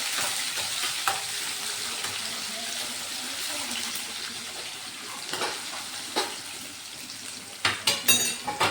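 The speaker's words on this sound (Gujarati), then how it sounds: "હવે એને આપણે મિક્સ કરી દઈશું." Chopped tomatoes are stirred into a sizzling spice mixture in a pan for Gujarati kadhi: a steady close hiss of frying with soft scraping, and a few sharp utensil clinks toward the end.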